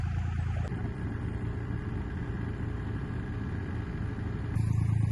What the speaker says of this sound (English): Granddad has the tractor going